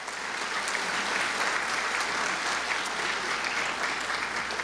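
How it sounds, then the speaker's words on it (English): Steady applause from a crowd at a curriculum graduation ceremony in Nashville, a dense wash of clapping that holds at an even level throughout. "Please give a round of applause."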